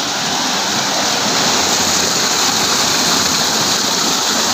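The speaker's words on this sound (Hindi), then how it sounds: "ये देखें ये चल रहा है सोलर सिस्टम और पानी आ रहा है इसमें।" Water gushing continuously from a solar-powered pump outlet in a village field, a loud, steady, dense rushing splash that stays constant throughout, close by with no speech.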